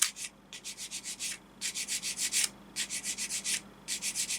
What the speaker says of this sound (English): you've got to try your best to keep the sander as flat as you can